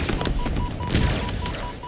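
Rapid weapon fire in the shooter game Halo Infinite, fired from a grenade launcher: a dense, continuous volley of shots and bursts at steady loudness, with a faint repeating electronic beep running through it.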